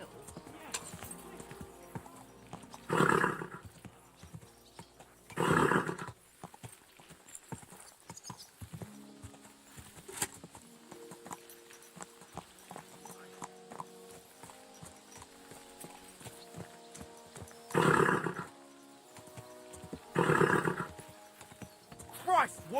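Hooves clip-clopping in the medieval video game Kingdom Come: Deliverance II, arriving in several short bursts of trotting with a whinny, set against quiet ambience and occasional character dialogue.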